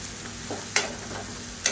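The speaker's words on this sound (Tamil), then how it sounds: "இப்போ பாருங்கள் வெங்காயம் நல்லா வதங்கிடுச்சு பொடியாக கட் பண்ணதுனால சீக்கிரமாகவே வதங்கிடுச்சு" Finely chopped onions sauté in hot oil for a Tamil kulambu, giving a soft steady sizzle broken by two sharp scraping strokes of a spoon stirring the pan, close and with no voices.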